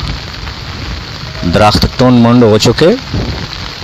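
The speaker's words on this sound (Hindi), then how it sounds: "बरसती हुई बूंदें" Heavy autumn rain falls outdoors between Khanpur and Taxila, a steady hiss that runs under a man's speech in the middle and continues on its own before and after.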